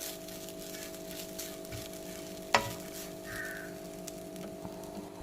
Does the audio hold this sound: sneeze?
no